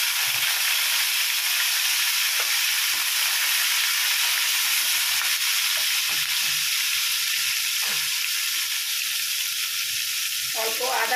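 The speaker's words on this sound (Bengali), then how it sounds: "আলু ভাজার তেলের মধ্যেই আমি দিয়ে দিচ্ছি 2টো কাঁচা লঙ্কা কুচানো" Chopped green chilies sizzle in the hot oil left from frying potatoes, a steady bright hiss that runs throughout, close and loud, with no talking over it.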